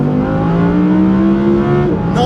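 Audi R8 RWS V10 engine revving hard toward about 9,000 RPM, a loud, close, steadily rising wail held for two seconds before a brief shift at the end.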